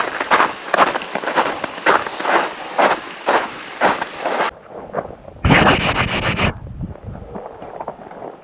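Steady rain noise on a mountain trail with broadband hiss, patterned with bursts of drops or wind buffeting the microphone, then a brief louder gust-like rush.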